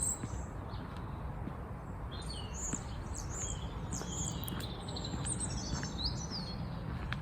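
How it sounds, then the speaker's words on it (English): Birds chirp and sing in quick, high bursts throughout, set against a steady outdoor rumble at night. "the birds are singing tonight"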